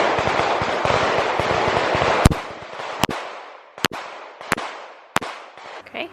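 Pistol shots at a shooting range, fired right-handed at a paper target: five sharp, loud cracks spaced under a second apart, preceded by a stretch of dense, rushing noise.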